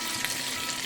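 Potatoes frying in a pan for a country-style breakfast, a dense, even sizzle close up and continuous throughout.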